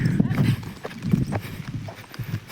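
Horse hooves clip-clopping outdoors on open ground as a horse runs about, a close, rhythmic series of dull thuds.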